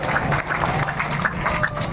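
An audience claps at an outdoor political rally, a brief continuous patter of applause from a crowd.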